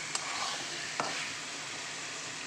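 Egg and potato curry sautéing in a pan gives a soft, steady sizzle with two brief stirring scrapes near the start.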